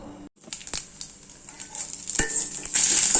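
Spices and asafoetida lightly frying in sesame oil for a greens pickle, a close crackling sizzle with scattered stirring scrapes and clinks that grows louder toward the end.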